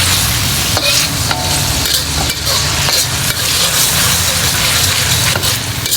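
Onions frying in a pan for a pork steak sauce, a steady loud sizzle with repeated stirring scrapes and clinks of a utensil, close up with no talking.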